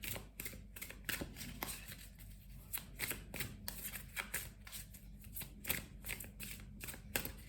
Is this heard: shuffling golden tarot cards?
yes